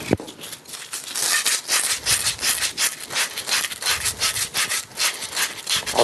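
Abrasive cleaning of a brass pipe before tin soldering: a rapid, rhythmic rasping scrub, loud and close, repeating in quick back-and-forth strokes with no talking.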